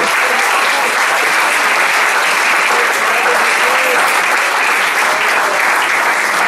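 A church congregation claps loudly and continuously during a sermon, a dense, steady wall of applause filling the room with no pauses.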